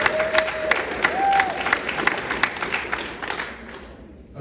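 A comedy theater audience claps and cheers in a warm burst of applause that gradually tapers off, with a few whistles mixed in.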